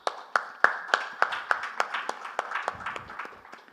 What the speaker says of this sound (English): Let's give Mr. Jhamb a warm round of applause and welcome him on the stage